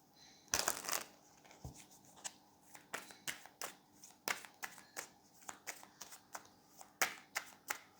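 Tarot cards are shuffled close up, with a crisp riffle followed by a run of light, rapid slaps and flicks as the deck is worked by hand.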